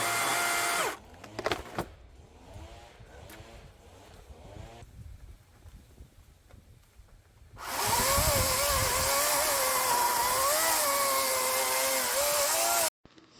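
A chainsaw, switched to a different bar and chain, idles and revs near a huge log on a street, then bites in with a loud, sustained, strained roar while slicing a foot-long round.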